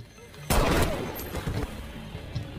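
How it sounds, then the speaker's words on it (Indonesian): Gunshot in a crime thriller film, one loud close blast followed by a rumbling echoing tail that fades out slowly. "lalu Stanley menembak Nathan"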